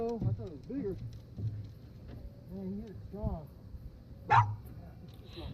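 A dog aboard a fishing boat on a shallow bay barks in a series of close, yelping barks and whines, with a person talking over the boat's low background hum.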